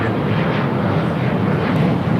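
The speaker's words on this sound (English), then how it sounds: "This is United Express 5628 taking off to Jackson on an E175." A United Express Embraer E175 taking off on runway 25 right at LAX, heard as a steady, broad jet engine roar holding at a loud level throughout.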